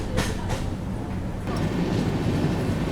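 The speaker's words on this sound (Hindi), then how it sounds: "फिलहाल अपनी राजधानी एक्सप्रेस दोस्तों स्किप कर रही है मथुरा जंक्शन को" A Rajdhani Express heard from on board a First AC coach as it runs through Mathura Junction without stopping: a loud, steady low rumble of wheels and carriage, rising slightly partway through.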